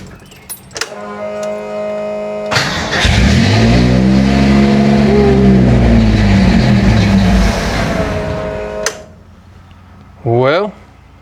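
A Bullnose truck's carbureted engine, just swapped back from EFI, cranks and catches after a quiet pause, runs unevenly with some revving for several seconds, then abruptly cuts out, followed by a brief sound afterward.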